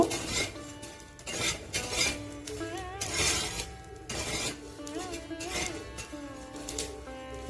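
Cumin seeds dry-roasted in a pan, a utensil scraping and stirring them in repeated strokes, close by, with a voice speaking over the scraping.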